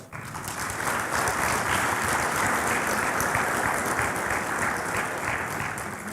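Delegates at the 33rd AFC Congress in 2023 break into sustained, dense applause filling a large hall, a steady roar of clapping electing an ASEAN Zone vice president by acclamation.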